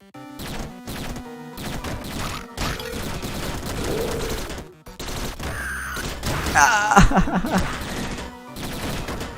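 Rapid gunboot shots and enemy hits from the Downwell video game, dense bursts of crunchy blasts and smashes over busy game music, louder toward the end.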